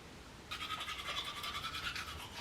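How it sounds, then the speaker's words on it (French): An electric toothbrush buzzes steadily against teeth, starting abruptly and running continuously at close range with no talking. "Donc moi je vais changer au brosseur électrique."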